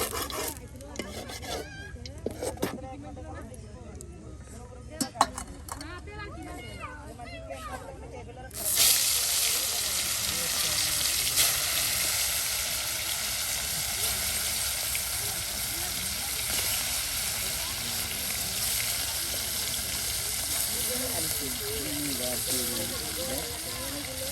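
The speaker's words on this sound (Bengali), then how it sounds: "আপনার মাছগুলো ভেজে নেওয়া হচ্ছে" Taki fish fry in hot oil at a riverside cooking spot, a dense steady sizzle starting abruptly partway through after quieter scraping and handling sounds, with a person talking over it.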